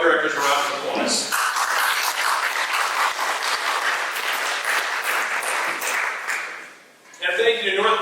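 An audience at a community foundation grants event applauds the volunteer board of directors, a dense sustained round of clapping that swells and holds before dropping away, with a speaker's voice heard before and after.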